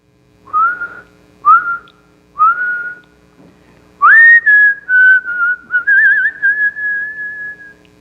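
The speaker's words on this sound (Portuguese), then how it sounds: "se lembrou de uma cantiga, começou a assobiar" A person whistles a folk tune alone: three short rising notes, a pause, then a longer sustained melodic phrase with a wavering trill, clear and close with no talk.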